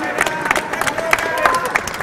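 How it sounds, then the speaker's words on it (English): Crowd cheering and clapping at the WRO International Final 2022 robotics competition, a lively hall roar with scattered claps and whoops, and a voice talking over it. "Everyone's cheering for them because they did actually a really good job."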